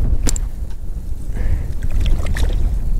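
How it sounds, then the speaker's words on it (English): Low rumbling wind buffeting the microphone on a frozen lake while ice fishing, steady and loud throughout, with a few brief knocks and scrapes on top. "Cold and windy."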